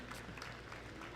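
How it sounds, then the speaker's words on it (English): Audience applause at a livestock show during a provincial exhibition in Fredericton, New Brunswick, Canada: a steady, fairly faint wash of clapping from a crowd, continuous through the short moment. "let's give them a round of applause"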